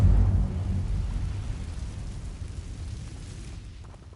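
Incendio fire spell in Hogwarts Legacy gameplay on PS4: a deep rumbling whoosh that opens loud and slowly fades away, with no voices over it.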